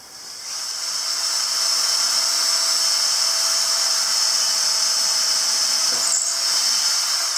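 A power drill bores into an awning cross beam during an entry-door awning build, giving a steady, loud, high-pitched whirring hiss that runs unbroken for about seven seconds with no talking.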